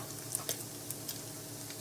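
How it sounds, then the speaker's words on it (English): Bacon frying in a pan, with the fat spitting: a quiet steady sizzle with a few sharp pops and crackles scattered through it, heard close and alone. "This is bacon that I've been frying, and it's just about ready."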